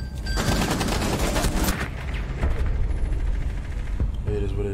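Rapid gunfire from a Rainbow Six Siege match, loud and dense bursts filling the clip, with a voice talking over the shooting.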